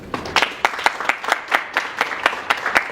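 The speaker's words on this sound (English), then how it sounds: "give a round of applause again" Audience at a leadership talk gives a short round of applause, a modest group clapping in a loose, uneven rhythm at moderate distance for a few seconds.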